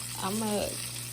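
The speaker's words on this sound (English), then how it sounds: "you hear that beautiful sound, honey? That is the sound of your chicken" Chicken frying in hot oil gives a steady, dense crackling sizzle, with a brief voice over it.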